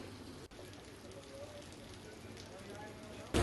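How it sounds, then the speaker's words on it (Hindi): Heavy rain falls steadily in Bharatpur, a constant close hiss of water on surfaces, with a brief thump early on and a louder bump at the end. "रुक रुक करके बारिश हो रही है।"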